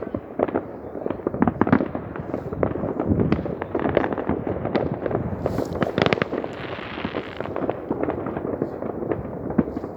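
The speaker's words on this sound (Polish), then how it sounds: "Wielkie fajerwerki, nie?" New Year's fireworks crackle and bang in rapid, irregular bursts, some sharp and close, others layered into a continuous rumbling barrage.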